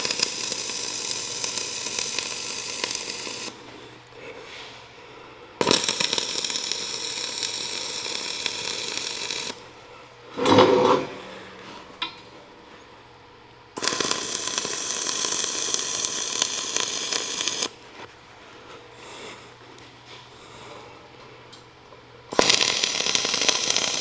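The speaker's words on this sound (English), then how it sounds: "I will go ahead and weld this side first" Steel plate rack being welded in several bursts of harsh crackling, sizzling arc noise separated by quieter pauses, with a brief clanking sound midway; close and fairly loud.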